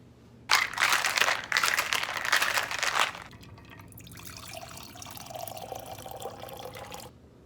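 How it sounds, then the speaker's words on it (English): A cocktail made with simple syrup is poured, giving about three seconds of loud, close liquid splashing, followed by a quieter trickle and drip that lasts several seconds. "Then I'm going to pour it up for you guys."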